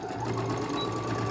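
A sewing machine chain piecing fabric runs at a steady clip, a continuous close mechanical hum with rapid needle chatter, alone without talk.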